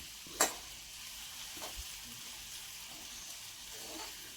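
Onions frying in oil in a pan for a tilapia fish curry give a faint, steady sizzling hiss, with one brief utensil clatter near the start.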